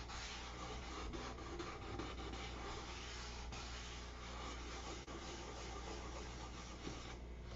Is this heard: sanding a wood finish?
yes